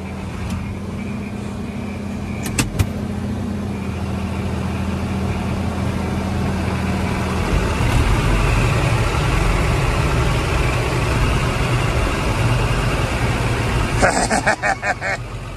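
A car engine idles and revs steadily, stuck in snow on a cold winter day, with a low continuous rumble throughout and a brief sharper burst near the end.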